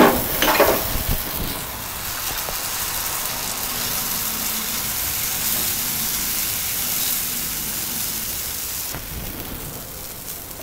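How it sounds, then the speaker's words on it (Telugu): Pesarattu batter poured onto a hot griddle, a sharp initial hiss followed by a continuous even sizzle, close and fairly loud, with a brief rustle near the end. "పెనం వేడెక్కింది. ఇప్పుడు పెసరట్టు వేసుకుందాం"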